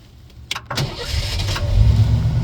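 A rough-running van engine with ignition trouble is started with a key turn: a couple of short clicks, then the starter cranks and the engine catches and settles into a steady idle, close and fairly loud.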